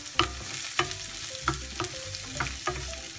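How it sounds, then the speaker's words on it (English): Onions and garlic frying in a pan, stirred with a utensil: a steady sizzle broken by a few sharp scraping strokes spaced about half a second apart, close and fairly loud, with no talking. "so we'll just keep on stirring this until they're cooked"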